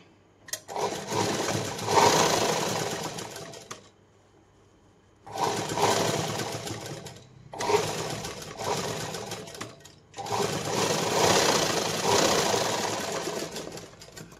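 An electric sewing machine double-stitches the katori section of a lined blouse in four steady whirring runs separated by short pauses, loud and close with no talking.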